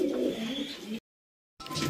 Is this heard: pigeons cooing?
yes